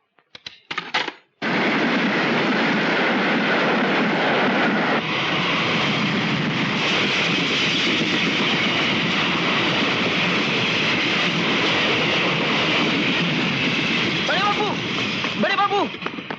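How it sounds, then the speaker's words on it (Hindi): A super express train passing at speed, a loud sustained rushing roar that starts abruptly and holds for over ten seconds with clattering and wind noise, close by. "अभी अभी सुपर एक्सप्रेस पास हुई है।"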